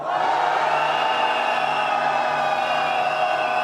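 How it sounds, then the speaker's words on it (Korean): Large street protest crowd in Seoul shouting in unison for Yoon Suk-yeol's impeachment at a candlelight rally, a loud sustained roar of many voices that stays steady throughout. "윤석열 탄핵의 함성 질러보겠습니다"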